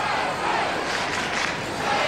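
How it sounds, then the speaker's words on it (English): Home crowd at a 2003 Australian football match between Hawthorn and Sydney roars and chants in a dense, sustained wash of voices, loud and continuous with no commentary over it. "Crowd trying to get their home team involved here"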